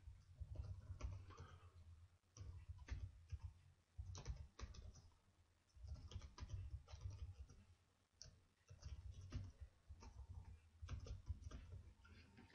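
Computer keyboard typing while a web form is filled in, with irregular bursts of quick clicking keystrokes and brief pauses, fairly faint and close, no voices.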